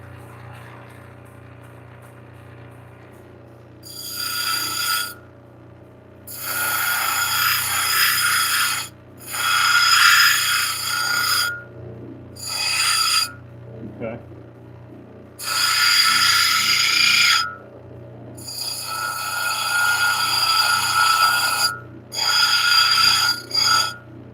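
A grinder works hard stone, flint and larimar, being shaped into a cabochon: loud broadband grinding in repeated bursts of several seconds, separated by short pauses, over a steady low machine hum, with a brief spoken word.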